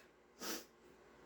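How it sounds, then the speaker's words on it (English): A single sneeze bursts out in a quiet room, one brief loud burst of breath with a hissing tail, then fades back to near silence. "I'm going to sneeze."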